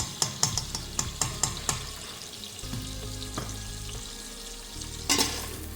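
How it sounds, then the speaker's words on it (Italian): Diced pancetta fries in a pot, sizzling steadily and close, with a quick run of sharp clinks and scrapes of a utensil stirring against the pot at the start, then a softer crackle and one more clatter near the end. "150 g di pancetta tagliata a cubetti. La lasciamo soffriggere per un paio di minuti."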